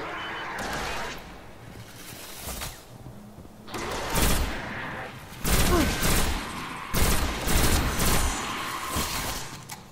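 Bursts of gunfire in the video game Destiny strike the player, with loud dense volleys arriving in several waves separated by short lulls, a voice briefly audible near the start.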